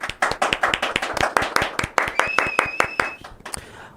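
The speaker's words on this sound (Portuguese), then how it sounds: "Palmas pro nosso Riso, né?" A small audience claps for a man named Riso, a run of sharp, fairly sparse handclaps close by, with a brief whistle-like tone in the middle.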